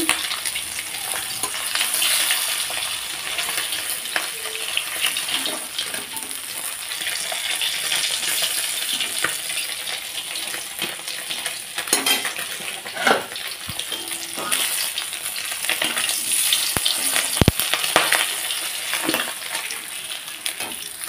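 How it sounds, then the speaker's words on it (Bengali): Fish pieces shallow-fry lightly in hot oil, a continuous dense crackling sizzle lasting the whole stretch, close and steady, with occasional scrapes and clinks as pieces are turned in the pan. "তাই হালকা হালকা এপিট ওপিট ভেজে নামিয়ে দিচ্ছি।"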